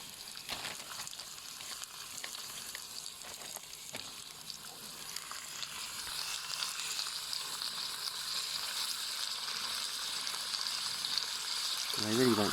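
Kipper fillets frying in a pan on a Trangia camping stove, a steady soft sizzle and crackle that grows gradually louder, with a few clicks early on and a brief scrape at the end.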